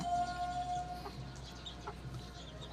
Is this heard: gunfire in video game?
no